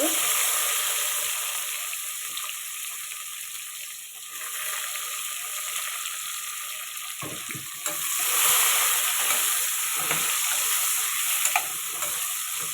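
Garlic and onions fry in oil in a pan for tomato dal, a steady hiss with soft stirring that swells louder toward the end, with no voices.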